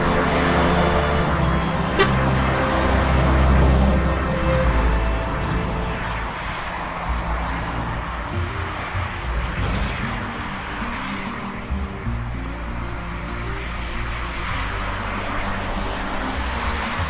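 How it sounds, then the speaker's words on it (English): A vehicle winds along a steep mountain pass descending toward a highland valley, its engine and road rumble steady and close throughout, with a brief horn-like tone early on. "The vehicle winds along steep mountain passes, descending from the highlands into the Jongseon Valley."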